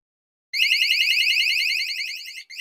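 A Cuteefun door and window alarm, a small 130 dB unit, starts abruptly after a brief silence and sounds a piercing, rapidly warbling electronic siren that stays loud and steady, dipping briefly near the end.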